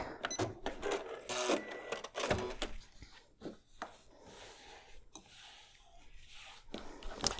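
A sewing machine stitches quilt block pieces together for a big churn dash block in short uneven runs, broken by sharp clicks and rustling as the fabric is handled.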